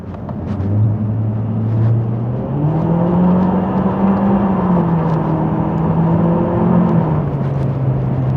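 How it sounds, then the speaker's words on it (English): A 2016 Nissan Juke Nismo's turbocharged engine with CVT accelerating from inside the car, a loud, continuous rising drone and whir that climbs in pitch and holds steady without talk. "you can definitely hear that turbo kicking in though"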